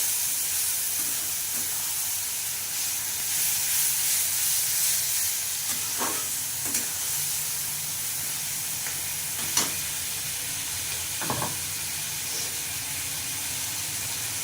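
Spice paste fries in a pan with a splash of water, giving a continuous loud hissing sizzle. Occasional clinks and scrapes come from stirring. No one speaks.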